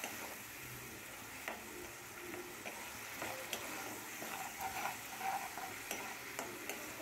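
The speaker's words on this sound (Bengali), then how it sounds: "এবার যে গুঁড়ো মশলাগুলি রেখেছিলাম সেটা দিয়ে দিচ্ছি, দিয়ে মশলাটি খুব ভালোভাবে একটু কষিয়ে নিতে হবে।" Ground spices stir-fried in oil in a pan for a vegetarian egg curry, with a soft steady sizzle and faint scraping stirs throughout, fairly quiet and without voices.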